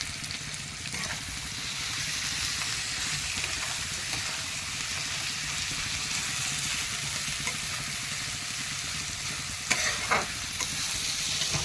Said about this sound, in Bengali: পেঁয়াজটাকে ভালো করে লাল লাল করে ভেজে নেওয়া হবে